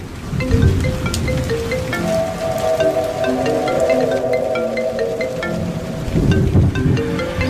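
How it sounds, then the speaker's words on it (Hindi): Heavy rain falls in a steady, dense wash that runs throughout, mixed with a sustained tonal hum and some clattering, fairly loud with no voices. "बारिश बड़ी तेज हो रही है।"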